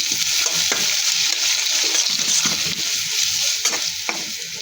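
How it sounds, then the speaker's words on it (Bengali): Onion and garlic frying in a pan with turmeric and coriander powder being added, a steady bright sizzle with scraping stir strokes throughout, close and alone without talk. "পেঁয়াজ রসুনটা ভাজা হয়ে গিয়েছে, দিয়ে দিব হলুদের গুঁড়ো, দিয়ে দিব ধনিয়ার গুঁড়ো"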